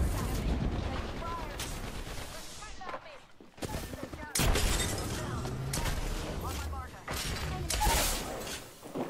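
Gunfire in the shooter Apex Legends: dense bursts of rapid shots and impacts, loud and close, broken by a short near-silent gap before the firing resumes, with a voice speaking over the fight.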